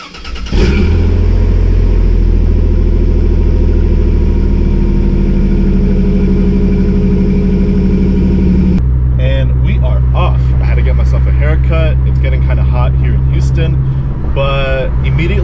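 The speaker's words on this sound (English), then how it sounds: "and then start the engine." A 4th-generation Toyota 4Runner engine with aftermarket headers cranks and catches, then settles into a loud, deep, rumbling idle with a throaty exhaust note that holds steady.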